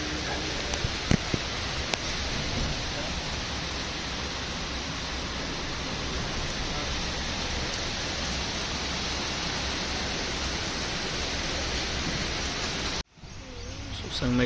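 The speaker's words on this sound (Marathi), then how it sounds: "बघू शकता खूपच मोठा असा पाऊस पडतो" Heavy monsoon rain pours steadily around a Konkan Railway train near Sangameshwar, a dense even wash of hiss heard from inside the carriage, cutting off abruptly near the end.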